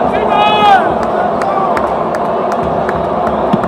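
A large stadium crowd at an official political rally at the Stade des Martyrs roars and cheers steadily, with a brief shrill whoop near the start and scattered claps within the dense, continuous hubbub.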